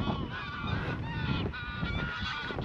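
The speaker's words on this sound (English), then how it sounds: "Geese." A flock of geese honking continuously, dense overlapping calls close by, loud and steady throughout.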